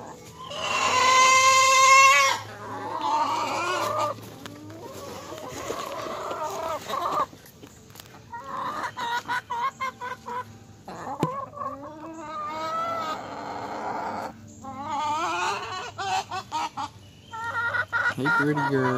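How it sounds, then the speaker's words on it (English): Backyard hens cluck and squawk close by in a loud, repeated series of calls with some crowing-like cries, while someone talks to them in between. "Crazy chicken."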